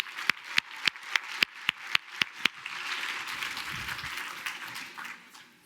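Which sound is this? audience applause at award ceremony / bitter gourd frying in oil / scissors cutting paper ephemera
audience applause at award ceremony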